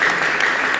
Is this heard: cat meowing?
no